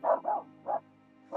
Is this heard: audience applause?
no